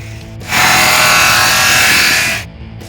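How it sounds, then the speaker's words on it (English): A jigsaw cuts across the ridged metal roof of a Ford Econoline van in one loud, sustained buzzing burst of about two seconds, close up, starting abruptly and trailing off. "To go across the ridges was easier to use a jigsaw."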